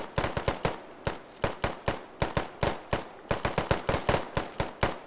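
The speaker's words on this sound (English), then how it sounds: "suppressive fire, maybe a distraction play" Suppressive machine gun fire in the game Squad, loud sharp bursts of rapid shots in irregular clusters over five seconds, close and dominant with no talk.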